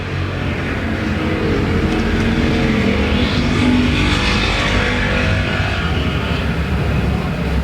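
Factory stock race cars roaring around the dirt oval at Perris Auto Speedway during a championship main event, a dense, loud, continuous engine drone with rising and falling revs as the pack passes.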